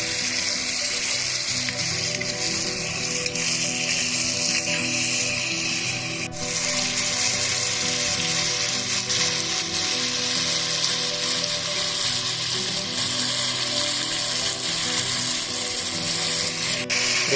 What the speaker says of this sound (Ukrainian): Прожарюємо м'ясо, цибульки.